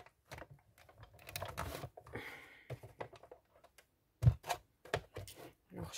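A hand-cranked die-cutting machine rolls a cutting mat through sticker paper, giving soft, quick ticking and rattling clicks in irregular bursts, fairly faint and close, with a few sharper knocks near the end.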